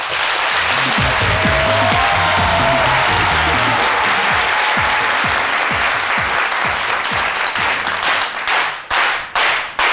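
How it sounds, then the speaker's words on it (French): Loud, sustained applause from a French TV studio audience, dense clapping that continues steadily and then thins out into a few scattered claps at the end. "Gouanou Jean-Claude nous rejoint sous vos applaudissements sur le plateau de C'est Midi"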